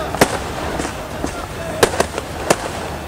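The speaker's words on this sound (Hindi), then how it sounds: "उन्होंने पुलिस पर ही पटाखों की बौछार कर दी" Firecrackers thrown by Palestinian protesters at Israeli police go off as about five sharp, loud cracks at irregular intervals, some close together, over a background of crowd noise.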